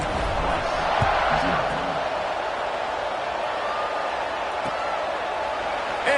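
Football stadium crowd buzzing after a touchdown, a dense, steady roar of many distant voices holding at an even level throughout with no single sound standing out.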